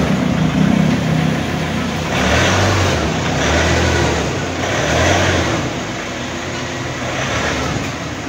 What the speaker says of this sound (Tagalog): Ito yung Harley Davidson nila na motor mga guys.